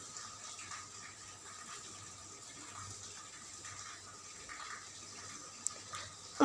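Water pours steadily into a pot of chicken masala being cooked, a soft continuous trickle throughout, with a brief clatter near the end.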